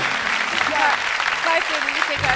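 Audience applause fills the room at a TV show taping, a dense and steady wash of clapping from start to finish with a few voices mixed in.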